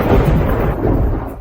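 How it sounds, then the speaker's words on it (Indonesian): Low, continuous rumble of thunder rolling through on a clear day, loud and sustained across the whole stretch, fading slightly toward the end with no talking. "mengapa tiba-tiba ada guntur?"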